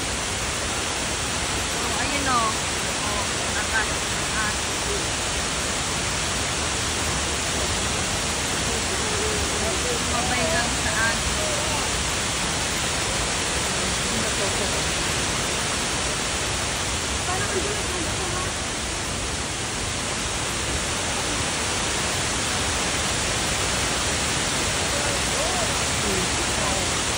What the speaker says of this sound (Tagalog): Sa waterfall. Iba yung tubig.